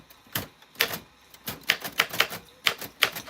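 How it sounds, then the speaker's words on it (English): Keys of a manual typewriter striking as a name is typed out, irregular clusters of crisp metallic clacks with short pauses between letters. "so I'm gonna hold this and type out, it is, oh okay. Type out treasured letter"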